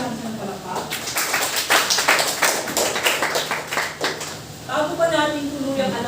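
A classroom of students clapping in a dense burst of applause that fades out, with a teacher's voice speaking before and after.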